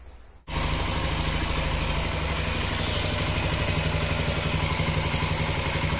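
A repaired Honda XR 150L motorcycle engine starts abruptly after a moment of quiet and then idles close by, steady and even with a light mechanical clatter, alone without voices.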